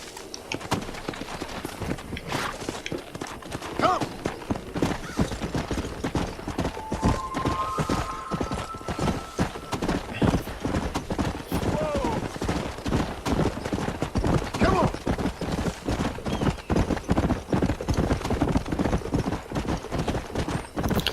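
Horse hooves clip-clop steadily and up close throughout a ride in the Red Dead Redemption video game, with a brief whinny partway through and faint game sounds underneath.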